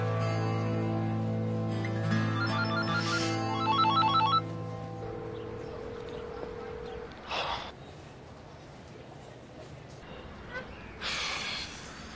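A telephone ringtone sounds loudly in a repeating melodic pattern for several seconds and then stops, followed by quieter talk, breathing and a brief gasp, with a short burst of noise near the end.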